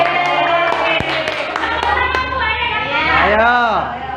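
A group plays the rhythmic Indonesian thumb-clapping game tepuk jempol at a school dissemination session, with sustained chanting voices over a few light, sharp handclaps.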